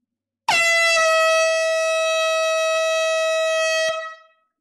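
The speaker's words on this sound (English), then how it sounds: "Buckle up, another air horn" A single loud air horn blast sounds alone during a live vinyl record sale, a steady harmonic-rich tone held for about three and a half seconds before cutting off and tailing away.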